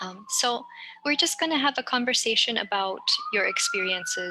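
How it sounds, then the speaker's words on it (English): A wailing emergency siren sweeps slowly up and down in the background outside, steady and moderately loud beneath someone speaking continuously in the foreground. "Sorry for the siren."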